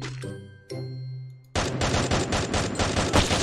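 Rapid automatic gunfire in the Roblox video game erupts suddenly after a stretch of tonal game music and chimes, then continues as dense, loud, repeated shots to the end.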